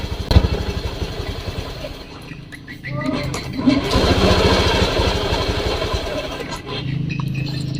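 A Honda Beat ESP scooter engine sputters and stumbles as the throttle is opened, running unevenly and close by with low rhythmic firing, briefly faltering midway before catching again.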